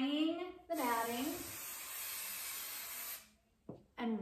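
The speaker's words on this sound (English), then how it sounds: "I'm just spraying the batting" A close, continuous hiss of spray adhesive being sprayed onto quilt batting, lasting a few seconds between bits of a woman's speech, followed by a short second burst.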